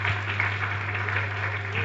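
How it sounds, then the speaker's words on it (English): An audience at a book presentation keynote claps for a comedian in a short, even burst of applause over a steady low electrical hum. "A round of applause for him, ladies and gentlemen, one more time."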